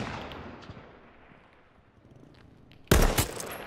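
In the video game H1Z1: Battle Royale, a gunshot cracks loudly near the end, followed by a short burst, after a fading roar and quiet ambient rumble.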